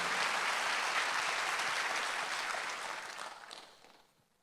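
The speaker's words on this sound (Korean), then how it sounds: "박수 한번 더 하세요." A church congregation at a Sunday worship service breaks into a full round of clapping that holds strong for several seconds, then thins out and fades away toward the end.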